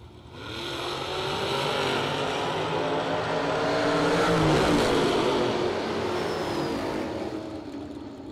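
Drag racing at the start line: a 1969 Camaro launching alongside a rival, engines roaring loudly and steadily for several seconds, swelling to a peak midway and then easing off as the cars pull away, with no talk.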